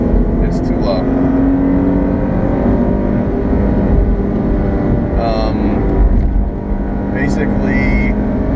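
A 2016 Cadillac ATS with its 2.0T engine hums at a steady cruising drone from inside the cabin, with a few brief voices breaking in over the continuous engine note.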